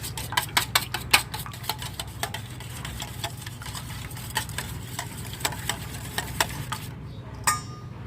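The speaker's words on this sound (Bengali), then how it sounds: "ডিমটা আমি একটু লবণ দিয়ে ফেটিয়ে নেব।" An egg beaten with a little salt, a fork or whisk clicking quickly against the bowl in bursts of rapid taps, close and fairly loud, then pausing and resuming more sparsely before a final clatter.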